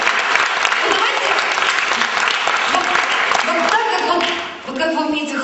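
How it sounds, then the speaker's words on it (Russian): A room full of women applauds loudly and continuously at a seminar honouring men for 8 March, the clapping briefly dipping near the end before picking up again. "вот как вы умеете хлопать"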